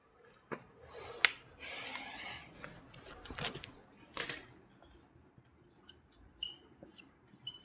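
A pen scratches across paper in a quiet room, with faint, irregular strokes and taps coming in short bursts, some slightly louder than others.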